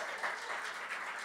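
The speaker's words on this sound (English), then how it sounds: "Can we get some applause for Simon for the" Concert audience clapping for a translator at a Polish music event, an even, moderately distant patter of applause that continues without pause.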